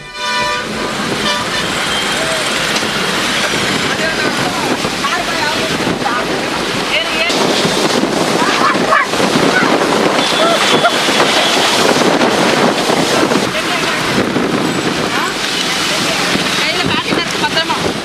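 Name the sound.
strong dust-laden wind during storm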